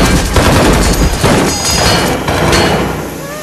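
Dense, rapid gunfire from a dubbed action film fills the stretch, sustained bursts and thudding shots with crashing impacts, loud and continuous throughout.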